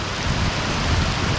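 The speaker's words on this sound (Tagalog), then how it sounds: "lumakas na yung ulan" Heavy rain from a typhoon pours down in Palawan, a dense, loud, continuous hiss of drops hitting surfaces nearby, steady and unbroken with no voices.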